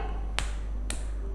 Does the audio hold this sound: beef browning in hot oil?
no